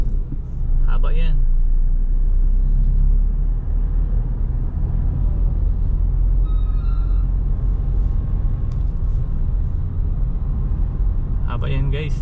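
Heavy road traffic near Buhangin rumbling low and steady, a dense idling drone with faint higher noises, while someone talks over it.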